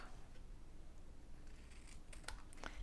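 Scissors snipping to trim paper strips flush with the edge of a handmade card, a few quiet crisp cuts near the end over a low steady background.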